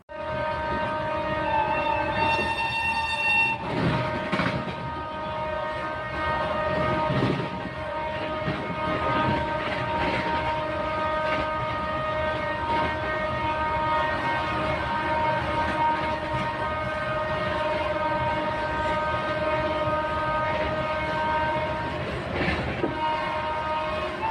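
Train running on rails with a long horn blast near the start, then a steady rumble and clickety-clack of the wagons rolling along for over twenty seconds, loud and close, no talking.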